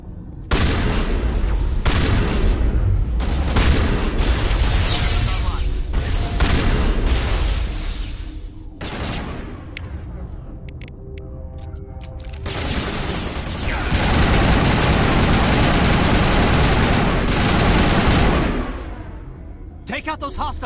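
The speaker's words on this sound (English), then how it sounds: "Open fire!" A Mass Effect video game firefight with loud sustained bursts of gunfire and booming explosions. The fire swells and dips across the span under shouted voices, and a heavy blast-filled stretch comes late.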